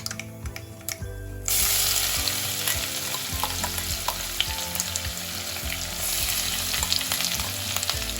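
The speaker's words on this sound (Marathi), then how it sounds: "कढीपत्ता घातल्यावरती आपण यामध्ये जी आपण मिरची वाटून घेतली आहे ती घालूया" Ground green chili paste dropped into hot oil with curry leaves for Mumbai vada pav, crackling loudly as it hits and then frying in a dense, steady sizzle with occasional stirring scrapes, close up and without speech.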